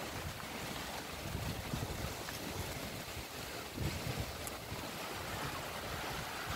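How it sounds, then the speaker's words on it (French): A thunderstorm with strong wind gusts in Meyzieu brings the first rain, heard as a dense, steady outdoor roar of rain and wind buffeting the microphone, with no voices. "Là, ça commence à pleuvoir"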